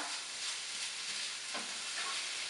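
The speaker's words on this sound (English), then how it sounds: "I'm going to cook down my spinach in our hash" Spinach wilting on top of a quinoa breakfast hash in a frying pan gives a steady, fairly quiet sizzle, with a brief stirring scrape near the middle and no talking.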